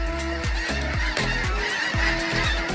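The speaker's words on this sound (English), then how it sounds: "that well-known goose flock has returned with another noisy entrance." A large flock of geese in Richmond honks loudly and continuously, many overlapping nasal calls in rapid, uneven bursts close by, with no talking over them.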